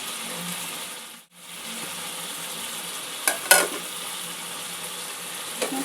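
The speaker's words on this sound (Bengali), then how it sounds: "মশলাগুলো দিয়ে আরও 2-3 মিনিট একটু কষিয়ে নেব" Potato and ridge gourd sauté in a pan with ground cumin, coriander, chilli and turmeric, giving a steady, close sizzle broken by a few sharp scraping stir clicks partway through.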